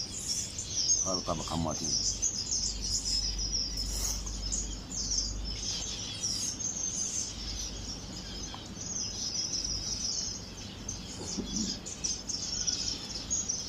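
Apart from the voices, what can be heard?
canaries chirping in an aviary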